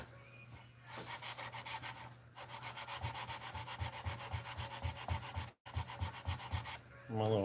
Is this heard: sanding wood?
yes